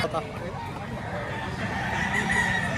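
Roosters crow and chickens cluck at a gamecock market in Lipa, Batangas, amid steady crowd noise and people talking nearby.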